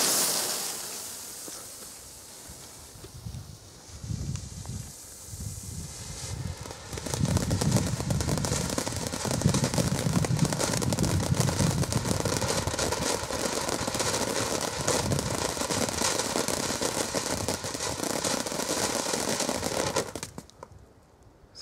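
A silver glitter firework effect launches with a few thuds, then a long, dense crackling sizzle of glittering sparks rolls on steadily before cutting off.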